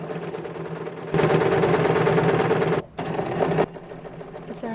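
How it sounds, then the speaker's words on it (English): A sewing machine stitches down the waistband of a tiered, ruffled petticoat in fast, rapid clattering bursts, loud and close, with a brief pause before it resumes and stops. "So that's stitched down in just exactly the same manner as the other tiers."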